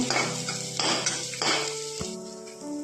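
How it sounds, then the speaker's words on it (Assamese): Onion and chili sizzle in a hot pan while a utensil stirs and scrapes in repeated bursts, with a metallic clink partway through. "পিঁয়াজ জলকীয়া ভাজি ল'লোঁ"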